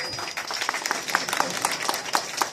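Brisk audience clapping at a first-year Durga Puja celebration, with distinct hand claps ringing out through a moderate crowd patter during an honouring ceremony, close and fairly loud.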